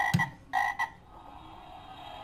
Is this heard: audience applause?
no